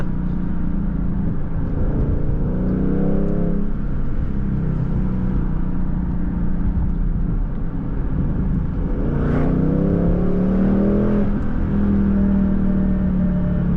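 A 2023 Ford Mustang Mach 1 V8 driven hard, heard from inside the cabin as a loud, steady engine rumble with two rising surges of revving acceleration, one early and one late, and no talking.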